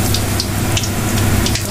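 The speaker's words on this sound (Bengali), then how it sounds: "এখন আমরা বেগুনিগুলো ভেজে নিচ্ছি।" Battered eggplant slices (beguni) fry in hot oil, making a loud, close, continuous crackling sizzle for the whole brief moment.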